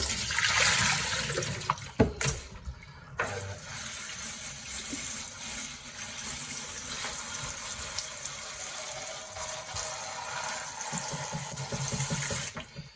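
Water gushes and splashes loudly, briefly cuts off, then runs in a steady stream into a container while rinsing developed film, before surging again near the end.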